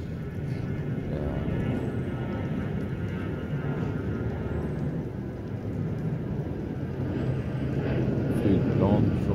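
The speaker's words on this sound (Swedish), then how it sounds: "Flygplan från Bromma." A plane from Bromma airport passes overhead as a broad, steady roar that swells slightly toward the end, over constant outdoor background noise in sunny weather.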